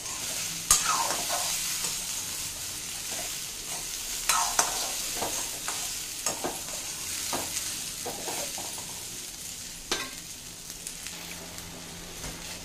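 Sliced okra frying in a pan over low to medium flame without onion or garlic, a steady sizzle broken by scraping strokes of a spoon stirring it, close and alone with no talk.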